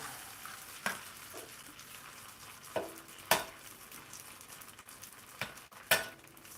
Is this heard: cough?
no